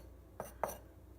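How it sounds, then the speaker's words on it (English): A knife chops through peppers and onion on a board, two quick faint knocks about a quarter second apart over a quiet kitchen background. "I'm just chopping up some peppers and some onion"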